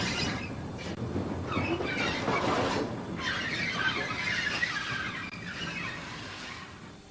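Harsh metallic screeching from the wheels of a steam freight train grinds on and off over a rumbling, clattering rail noise, fairly close and continuous with no voices.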